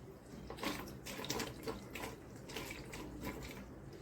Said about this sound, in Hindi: तो इसमें हम पानी डालेंगे सावधानी से।